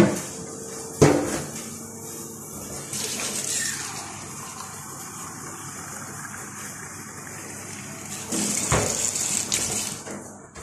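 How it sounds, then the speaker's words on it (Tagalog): Water pours steadily into a metal pan, a hollow splashing stream, with a clunk at the start and clattering near the end. "Lagyan natin ng water."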